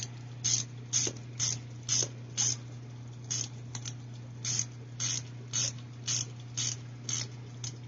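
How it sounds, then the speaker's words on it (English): A hand ratchet fitted with a 7mm socket clicks in short regular bursts, about a dozen quick ratcheting strokes spaced roughly half a second apart, close up over a steady low hum from aquarium filter equipment. "gotta figure out what size socket I need for my ratchet"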